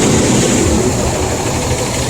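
A diesel engine idles close by with a loud, steady low rumble and a broad, even roar that holds without a break.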